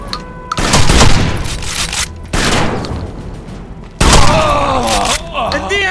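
Gunshots in the video game Rainbow Six Vegas come as several loud, booming bursts separated by short gaps, with a voice talking in between and a whining, wavering tone near the end.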